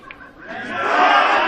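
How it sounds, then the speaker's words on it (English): A crowd at a pool match in Newcastle upon Tyne swells into a loud roar of cheering that builds and holds, dense and near. "the roar from the crowd"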